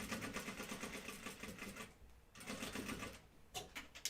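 A foot-pedal sewing machine stitches in fast, rapid mechanical bursts, running steadily, stopping briefly, then starting again in short spurts, close up and fairly quiet.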